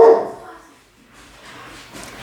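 Dogs bark indoors at night, one sharp, loud burst at the very start, then quieter whimpering and low noise that fade and pick up again faintly.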